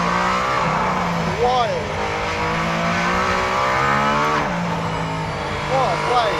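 A physical, intense performance car is driven hard, its engine revving loudly with rising and falling harmonic tones and a brief tire squeal, continuous and close, under someone talking.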